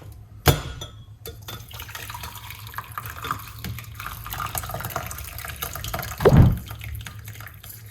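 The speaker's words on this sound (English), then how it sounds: "we're going to pour it off" Liquid pours and splashes into a container, with a clatter near the start and a brief louder gush toward the end.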